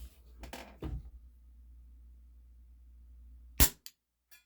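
A WE Bulldog gas blowback airsoft pistol running green gas and 0.20 gram BBs fires one sharp, loud crack after a few brief handling clicks, followed by a short mechanical clack and then quiet.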